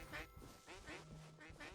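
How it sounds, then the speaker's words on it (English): Geese in the video game Unpetrified honk in a quick run of nasal calls, about five sharp honks in under two seconds, fairly faint. "Oh, they're honking at me."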